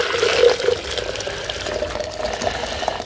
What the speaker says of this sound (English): I'll put some more hot water in